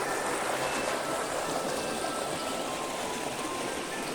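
River in Kayangan Dlepih flowing over rocks, a steady, broad rushing of water that stays continuous and fairly close, with no voices.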